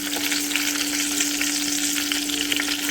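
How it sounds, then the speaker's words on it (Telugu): Dried red chillies frying in hot oil with a salt sprinkle, a loud, dense, continuous sizzle with faint crackles and a steady hum underneath, close up and with no voices. "ఇలా బొబ్బుల్లో రావాలి ఇలా వేపుకోవాలి"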